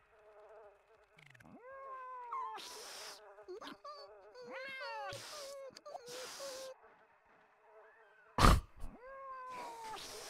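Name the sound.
cat meowing in The Sims 1 video game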